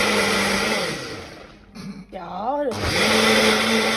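A blender whirs loudly at a steady pitch, cuts out briefly while a voice speaks over the gap, then roars back up to full speed, close and dominant.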